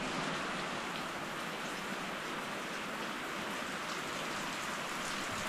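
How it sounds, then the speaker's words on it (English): Rain falling steadily over a food plot in southern Indiana during a drought-breaking storm, a constant, even hiss of drops on surfaces with no breaks, fairly soft and close. "We needed some rain."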